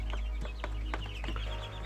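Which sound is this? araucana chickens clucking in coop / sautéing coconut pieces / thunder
araucana chickens clucking in coop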